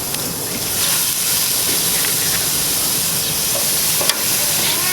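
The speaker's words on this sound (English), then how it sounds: "Listen to that sizzle." Chicken pieces sizzle on a hot grill over high heat, a loud, steady hiss and crackle with scattered pops running throughout, with no talking.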